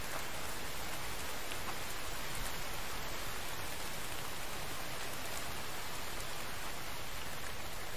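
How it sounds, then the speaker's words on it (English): Rain pours steadily in The Infected video game, a dense, even hiss of falling drops with no talking over it. "Figures that it's raining on the first night, so it gets dark."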